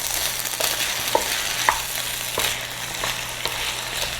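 Cannellini beans, rinsed and drained, being stirred in a hot frying pan: a steady broadband sizzle with soft, irregular spoon scrapes and clicks every half second or so, close and continuous with no talking.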